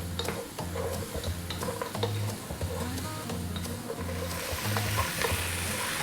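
A chicken soup base cooks in a pot over a lively, above-medium heat, a steady sizzle running underneath while a spoon scrapes and stirs in repeated strokes. No one speaks.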